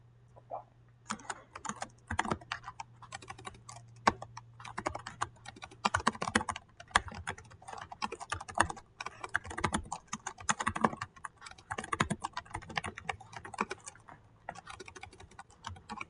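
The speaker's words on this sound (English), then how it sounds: "I'm having trouble typing today." Continuous typing on a computer keyboard, rapid irregular key clicks with brief pauses, close and fairly quiet, with no talking.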